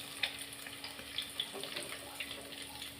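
Fish frying in hot oil for a Chettinad fish fry, giving a steady close sizzle and crackle with small pops and a faint constant hum behind it.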